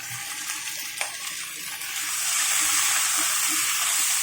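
Vegetables dropped into hot oil for rui fish head chachri: a quieter crackle first, then a few clinks, then a loud, steady sizzling hiss with small pops from about halfway through.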